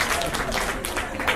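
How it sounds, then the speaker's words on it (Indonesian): Brief burst of audience applause at a networking seminar, dense clapping close and fairly loud with some crowd murmur mixed in. "Oke, berikan tepuk tangan untuk videonya."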